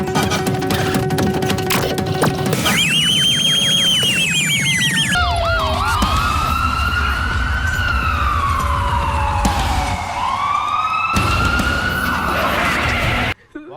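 A loud, close ambulance siren cycles through rising and falling wails and rapid yelps, shifting pattern several times and running continuously almost to the end.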